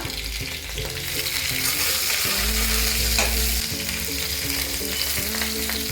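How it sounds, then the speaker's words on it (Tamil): Steady, dense sizzling of chopped onions and green chillies sautéing in a hot pan, continuous and close, with faint stirring sounds over it. "வெங்காயத்தையும் சேர்த்துக்குவோம். சேர்த்து நல்லா வதக்கிக்கலாம்."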